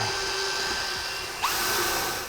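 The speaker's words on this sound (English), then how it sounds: "So we can start drilling our holes now. We want to drill our pilot holes for the 5 holes on either side" A power drill bores pilot holes into the front of a 2013 Cadillac SRX while a base plate kit is fitted. It gives a steady, close, continuous whirring hiss with a brief shift in tone partway through.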